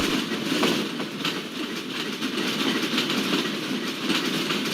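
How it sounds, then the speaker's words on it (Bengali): Rangpur Express rolls from the main line into the loop line at Tangail station in the BTZS train simulator game, a steady rumble with rhythmic wheel clatter over rail joints, loud and close throughout. "রংপুর এক্সপ্রেস মেইন লাইন থেকে টাঙ্গাইল রেলওয়ে স্টেশনের লুপ লাইনে প্রবেশ করে গেল"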